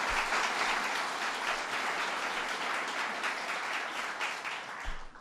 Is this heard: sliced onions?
no